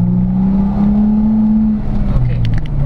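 A loud, deep rumble from a Borla exhaust on a 2018 Jeep Wrangler JK Unlimited revving, holding steady, then dropping in pitch near the end as the revs fall, with a hint of talk over it.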